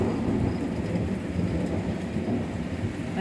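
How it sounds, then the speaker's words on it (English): A desert rainstorm pours steadily with dense rain hiss and a continuous low rumble of thunder, loud and close, with no voices. "hopefully it rains like this all night"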